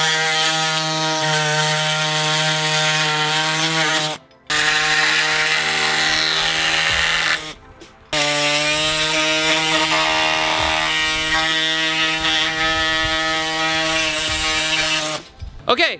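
A cutting tool trims a Mustang GT body part with a loud, steady, high-pitched buzzing whine, running in long stretches and stopping briefly twice.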